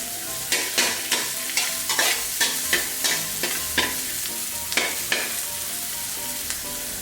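Garlic stir-fried in hot oil in a pan, where a steady loud sizzle carries a quick run of rhythmic spatula scrapes, around a dozen strokes close up, with no talking.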